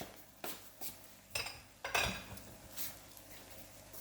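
Ceramic bowl and dishes handled while sausage rice is plated, with a few separate clinks and knocks close by, including a brighter clatter near the middle, over a quiet kitchen background.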